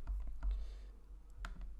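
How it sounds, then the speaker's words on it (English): Computer keyboard keys clack in a short, uneven burst of typing up close, with a pause before a final few presses. "typing as I go"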